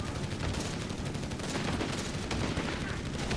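Gunfire from a Company of Heroes 3 match, a dense, continuous crackle of shots and bursts that fits machine gun fire, loud and steady throughout with a faint voice underneath.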